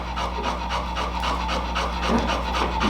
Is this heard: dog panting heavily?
yes